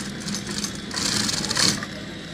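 A sewing machine stitching a kurta, with a steady mechanical whir and rattle running throughout at close range that grows a little louder in the middle, then settles.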